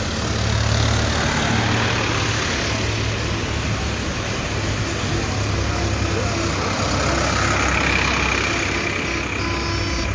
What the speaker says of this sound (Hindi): ट्रैक्टर आगे बढ़ते हुए।